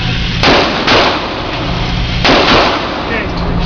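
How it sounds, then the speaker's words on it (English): Gunfire at a shooting range: four loud, sharp reports, two close together near the start and another pair a couple of seconds later, each cracking out over a steady background. "Okay, shoot when you're ready."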